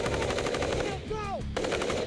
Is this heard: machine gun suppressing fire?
yes